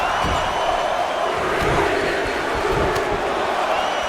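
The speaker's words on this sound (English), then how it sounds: "Listen to this crowd." A large arena crowd at a women's bikini wrestling royal rumble roars and cheers in a steady, dense wash of noise, with occasional shouts and thuds rising out of the constant din.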